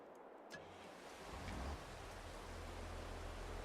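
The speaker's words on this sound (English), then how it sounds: "Oh, here's the rain. Can you hear it?" Rain in the Farm Sim video game sets in as a steady, broad hiss that swells after a moment and then holds evenly, soft and continuous with no talking.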